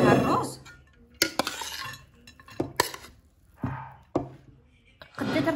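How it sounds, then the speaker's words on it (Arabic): Mixed colored rice being tipped from a metal tray into a serving dish, with clinks and scrapes of a utensil against the dishes coming in separate bursts between quiet moments. "صافي خلطت الرز ديالي، غادي نخويه في الطبسيل اللي غنقدمو فيها الرز."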